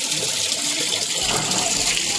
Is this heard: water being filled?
yes